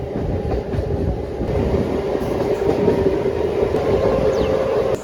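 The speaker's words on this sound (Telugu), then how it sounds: "కొవ్వూరు దాటాక మన ట్రైన్ స్పీడ్ అయితే ఇలా ఉందన్నమాట" A Kakinada–Vijayawada MEMU Express (17258) runs at speed past Kovvur, with a steady loud rumble of wheels and carriage noise, a faint rhythmic clatter and a thin high whine throughout, no voices.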